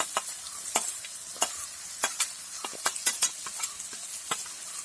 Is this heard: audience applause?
no